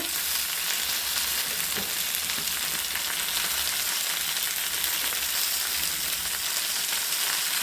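Pabda fish, sprinkled with salt and turmeric, fry in a pan for a mustard-poppy seed curry, giving a dense, even, close sizzle that holds steady throughout with no voices.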